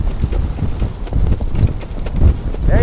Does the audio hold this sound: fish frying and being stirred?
no